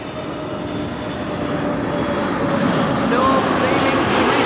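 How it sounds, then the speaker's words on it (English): A Sky Express Airbus A320neo jet arriving at Amsterdam Schiphol Airport from Athens gives a loud, steady engine roar with a faint whine that holds and swells slightly over a few seconds. "This is Sky Express flight 790 arriving from Athens."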